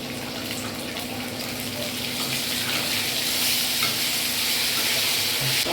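Coriander fries in oil for a radish chutney, giving a steady, close sizzle that holds even throughout with no talking.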